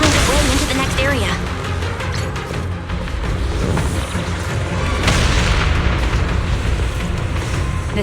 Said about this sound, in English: The explosions are becoming more frequent.